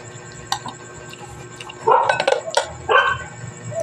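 Several dog barks in short bursts, mid-distance, with a couple of louder clustered yaps toward the end over quiet background.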